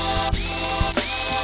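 Screws being taken out of a Nord Stage keyboard during a key bed replacement: two sharp ratcheting clicks, close and clear, over a steady tonal hum, with no talking.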